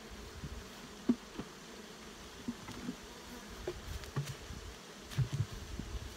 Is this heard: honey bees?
yes